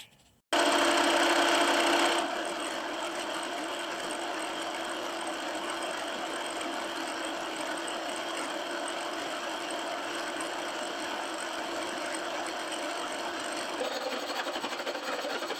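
A milling machine cuts a steel crosshead from a two-foot gauge steam locomotive with a steady mechanical whir. It is loudest in the first couple of seconds, then settles into an even, continuous drone.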